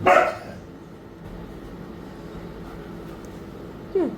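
A dog in the room gives one loud bark at the start, then the space goes quiet before a brief yelp near the end, with no speech over it.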